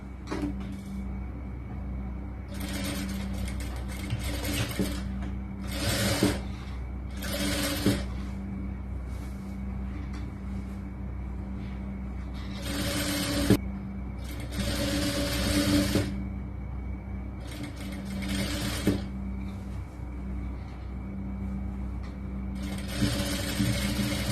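A sewing machine stitches a churidar sleeve in repeated short bursts of whirring, separated by brief pauses, over a steady low background hum.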